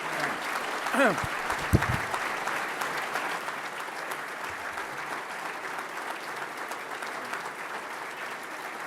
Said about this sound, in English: Marty, you can see by the genuine applause